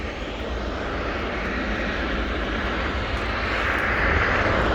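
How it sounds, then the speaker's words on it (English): An aircraft approaching Fairford's airspace during a quick reaction alert demonstration at the Royal International Air Tattoo air show, a loud continuous jet engine roar that swells slightly as it nears. "you can see the unidentified aircraft approaching Fairford's airspace"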